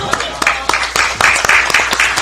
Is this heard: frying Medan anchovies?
no